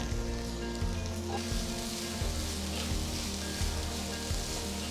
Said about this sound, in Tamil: அடுத்து 5 வெங்காயம் மெலிசா நறுக்கினது சேர்த்து வதக்குங்க.